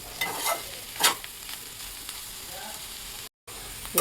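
Potato fry being stirred in a pan, with soft scraping strokes and a quiet sizzle of frying underneath, a few louder stirring bursts standing out in a short kitchen moment.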